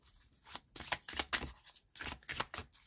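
Tarot cards being shuffled by hand close up, several quick riffling bursts in an irregular rhythm, fairly quiet and with no talk over them.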